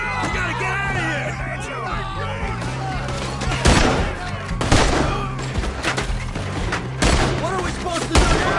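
Loud, dense gunfire in the Red Dead Redemption 2 video game, with rapid volleys of shots and sharp cracks going on throughout, under shouting voices and music.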